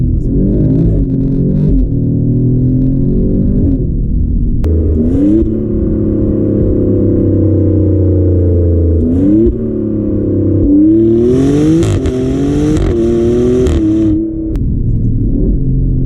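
A 2024 Maserati Grecale Trofeo SUV's V6 engine revs hard with rising and falling pitch, punctuated by sharp crackling bursts on gear shifts; loud, close, continuous, no talking.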